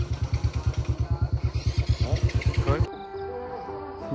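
A Royal Enfield Bullet motorcycle on a jungle hill road thumps close and loud with a steady, rapid, pulsing idle after finally starting, then cuts off abruptly, leaving quieter background sound and voices.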